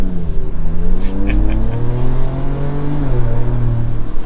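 A 2024 Ford Ranger Raptor or Toyota Tacoma TRD midsize pickup accelerating on the road, its engine note climbing loud and steady from inside the cab, with no talking.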